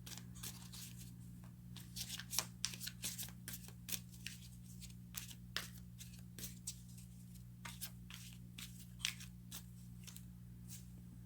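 Tarot cards being shuffled and drawn, a quiet close run of crisp flicks and snaps in an irregular rhythm over a faint steady hum, with no voices.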